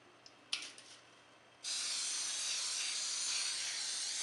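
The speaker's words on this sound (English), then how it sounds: "So I'm spraying with a pan coating." A steady aerosol spray of pan coating hisses continuously for a few seconds at close range onto a cake pan, after a couple of short preliminary sputters.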